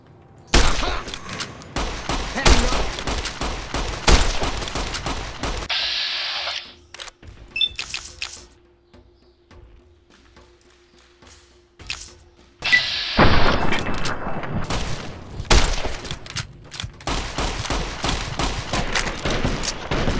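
Gunfire in the video game Fallout: New Vegas: dense volleys of loud, sharp shots crackle for several seconds, fall to a near-quiet lull with scattered clicks, then burst back into heavy rapid firing.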